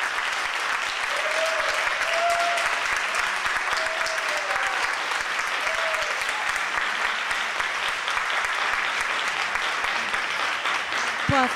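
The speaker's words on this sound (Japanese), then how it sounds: "さんに大きな拍手をお願いします。" Sustained audience applause fills a church hall at an Easter festival service, steady and dense throughout, with a few faint sung or spoken tones surfacing briefly beneath the clapping.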